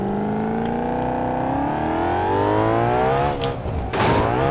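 A car with a huge engine and huge exhaust in the BeamNG driving game revs and accelerates, its engine tone climbing steadily with a rising whine, loud and close, with a couple of brief knocks near the end.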